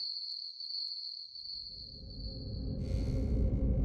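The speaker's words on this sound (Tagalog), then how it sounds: "Tanging tunog ng kuliglig ang namamagitan sa aming dalawa." Crickets chirp with a steady high trill at night as a story sound effect, shrill and continuous before fading out as a low rumbling wind-like sound swells in.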